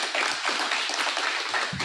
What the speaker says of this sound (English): you should give them a round of applause for that as well.